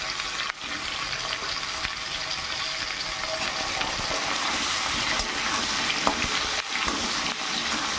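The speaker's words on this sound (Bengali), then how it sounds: "কলা এমনি সেদ্ধ না করে নিলেও হবে প্রথমে আমি তেলে ভেজে নেবো" Green bananas frying in hot oil with potatoes, a steady close sizzle with light stirring scrapes running throughout, no voices.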